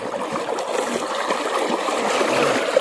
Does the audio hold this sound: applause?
no